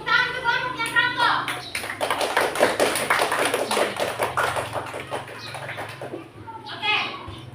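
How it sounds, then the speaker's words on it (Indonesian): Children in a classroom clap for a student's group in a rhythmic, patterned burst, with voices talking over it at the start and near the end. "Tepuk tangan untuk kelompoknya Franco"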